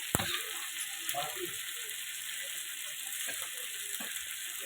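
Potato curry masala frying in a pan over medium gas heat, a steady broadband sizzle running throughout with a few faint clinks and stirring scrapes, close and moderately loud, no talk.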